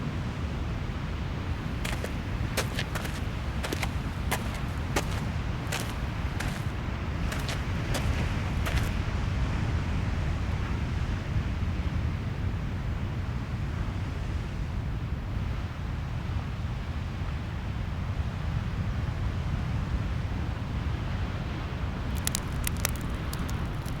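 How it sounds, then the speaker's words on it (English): Strong wind at a coastal campsite at Skuinsbaai Noord in the Richtersveld, roaring continuously and loudly as it buffets the microphone, with sharp gusty bursts and a surf-like rush underneath. "took shelter from the wind behind the small windbreaker"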